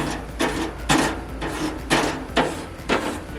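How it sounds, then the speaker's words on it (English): A brush scrubs a lightly rusted metal grill part in several quick, rasping strokes, each burst of bristle friction close and fairly loud with short pauses between. "You can take the brush and just give it a quick scrub"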